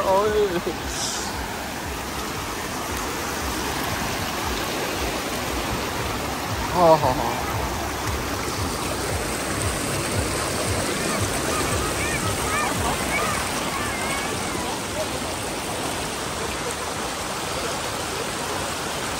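Cold mountain stream water rushing steadily beside a road in the Kaghan–Naran valley, a constant broadband wash with a brief splash, while people talk over it.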